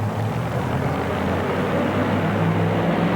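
A 40,000-pound two-wheel-drive pulling truck at an indoor arena in Philadelphia roars at full throttle down the track, a loud, dense and continuous engine drone that holds steady for the whole stretch.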